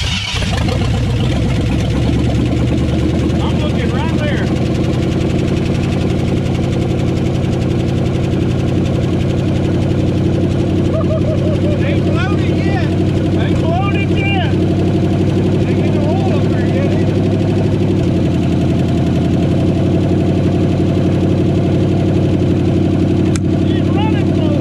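A rebuilt Ford 390 V8 in a 1963 Galaxie 500 runs loud and close with a steady, throbbing idle and some ticking. People talk over the engine for much of the time.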